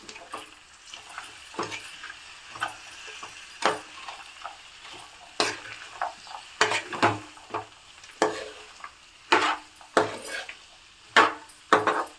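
Half a kilo of salted broad beans (chikkudukaya) frying on low heat in a pan get stirred, with irregular clinking, scraping strokes of a utensil against the metal over a soft sizzle and no voices.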